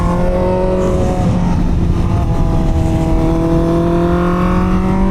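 A Honda CBR650R motorcycle engine drones loud and steady with a sustained high whine, the rider leaning through twisty roads; the pitch dips slightly, then rises, without a break.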